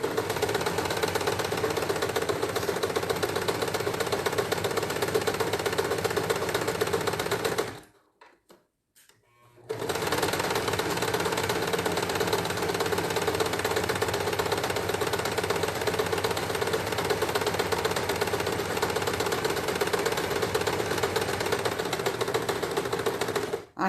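A sewing machine stitches a child's shorts in a steady, rapid mechanical whir. It runs continuously and stops briefly for a couple of seconds, then resumes its even running.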